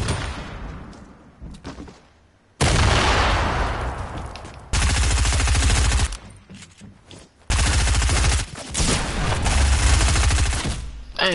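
Bursts of rapid gunfire from the Fortnite video game, with three loud sustained volleys separated by quieter gaps and some speech in between.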